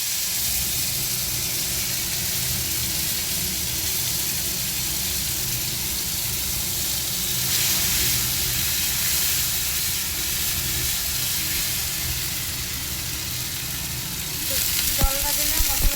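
Whole spices fry in a pan for a Bengali vegetable dish, a loud, steady sizzle and hiss that runs throughout, with a few clattering stirs near the end.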